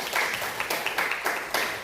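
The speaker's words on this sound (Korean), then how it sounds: "박수 한번 쳐주세요" A church congregation claps at an early-morning Korean service, a brief scattered round of applause from a modest crowd, fairly faint and uneven.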